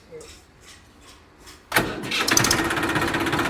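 Quiet murmuring voices, then a tractor engine abruptly cranks and catches, settling into a loud, steady diesel rumble with rapid chugging.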